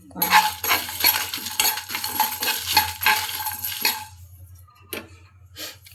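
Dry spices being roasted for homemade Maggi-style masala, stirred and scraped steadily around a hot pan with busy metallic scratching and rattling, then thinning out to a few isolated scrapes.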